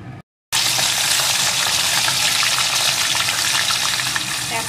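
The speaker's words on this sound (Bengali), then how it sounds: "এখন লাল লাল করে পনিরের টুকরোগুলোকে ভেজে নেব।" Paneer pieces fry in hot salted oil for a vegetarian potol paneer dish, making a loud, dense, continuous sizzle close to the microphone that runs unbroken for several seconds after a brief cut.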